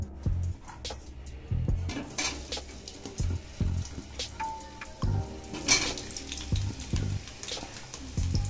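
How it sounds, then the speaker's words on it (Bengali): Potatoes fry in mustard oil in a wok for a Bengali mutton curry, a steady sizzle under repeated scraping and stirring knocks, with irregular clatter of utensils close by. "সরষের তেল দিয়ে এবার আমি আলুগুলোকে ভেজে নেব"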